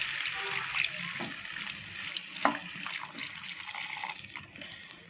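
Water running and pouring into a pan of sautéed soya chunks with salt, a steady close trickle and splash lasting throughout with a few brief clinks.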